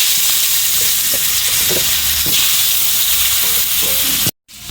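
Potato pieces fry in hot oil already tempered with cumin, giving a loud, continuous close-up sizzle with occasional utensil scrapes and stirring taps, then a brief cut to silence near the end; no talking.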